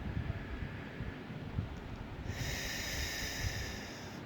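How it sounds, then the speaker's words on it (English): Slow, deep breathing drawn in through the nostrils and let out through the mouth, a steady, soft airy rush close to the microphone with a brighter hiss arriving partway through. "Breathe in through your nostrils, breathe out through your mouth."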